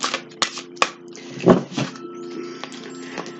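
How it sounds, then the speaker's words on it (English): Tarot cards being shuffled by hand in a quiet room, a series of soft papery riffles and taps, some sharper clicks standing out, fairly close with no talking. "So we'll just continue shuffling these cards here."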